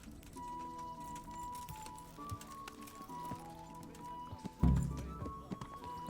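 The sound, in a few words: horses riding in Kingdom Come Deliverance video game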